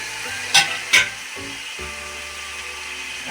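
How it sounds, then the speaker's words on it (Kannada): Chili powder frying in oil in a pan for bread roast, a low steady sizzle broken by a few sharp clacks of a spoon or spatula early on. "ಫ್ರೈ ಮಾಡ್ಕೊಳ್ಳೋಣ."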